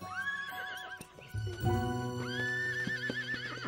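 Horse neighing in two long, wavering whinnies separated by a short pause, loud and close, with a low rumbling underneath and no voices.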